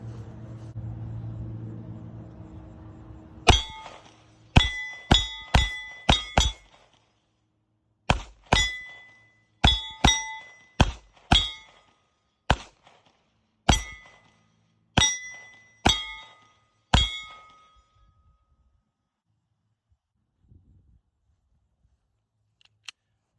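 A Glock 19 Gen 5 pistol fired outdoors, about fifteen sharp, loud shots in uneven groups with ringing decays and brief pauses between strings.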